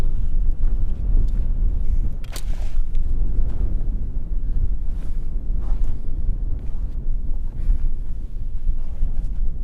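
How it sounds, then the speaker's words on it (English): Wind gusting through a wild campsite near a small one-person tent, buffeting the microphone as a loud, steady low rumble with one brief higher crackle of rustling, no talking. "Bit of a wind tunnel coming through from behind me."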